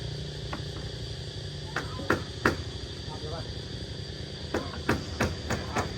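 Hammer striking a nail during home building work, a handful of sharp knocks in irregular pairs over a steady background buzz of insects.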